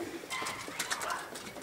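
Pigeons cooing inside a racing pigeon loft, soft overlapping coos and bird calls running steadily through the short stretch, with faint movement and murmurs in the background.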